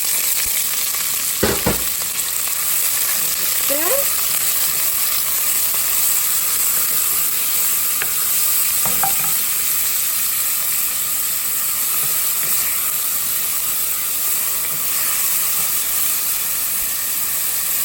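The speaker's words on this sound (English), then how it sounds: "Once the oil is nice and hot, you start adding the onions to it." Onions sizzle steadily in hot oil in a pot for pasta e fagioli, a continuous broadband frying hiss with a few brief stirring clatters near the start.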